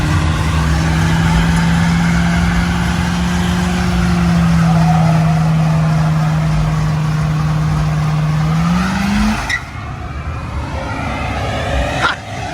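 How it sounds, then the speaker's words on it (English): A car doing a one-wheel peel burnout at a street drifting gathering roars steadily at high revs for several seconds, its pitch rising briefly before cutting off, followed by quieter crowd and street noise. "One wheel peel, bro."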